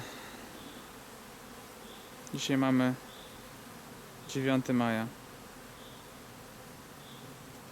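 A constant hum of many honey bees buzzing around apiary hives in May fills the background while someone speaks two short phrases over it.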